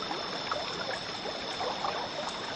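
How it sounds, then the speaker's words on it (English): Rushing river water makes a steady, broadband hiss and gurgle that holds at moderate level throughout, with no voices. "The rushing water took the boat into the middle of the river."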